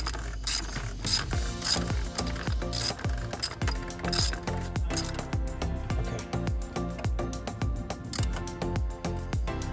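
A ratchet wrench tightens a bolt during work on a Ferrari 360, giving a fast, loud run of metallic clicks in rapid strokes, close up and without speech.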